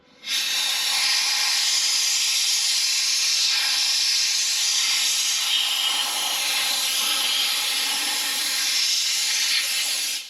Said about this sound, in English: This basically shoots brake cleaner through it using shop air pressure.